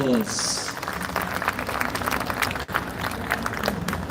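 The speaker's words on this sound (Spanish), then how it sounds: "aplauso, fuertes los aplausos." A crowd at an outdoor serenade for the anniversary of the Battle of Ayacucho applauds steadily, dense clapping held at an even level throughout, with voices mixed in.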